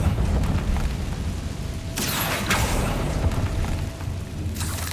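A Bombarda spell explosion in Hogwarts Legacy, a sudden booming burst over a steady low game rumble, followed by crackling debris and a second smaller burst near the end.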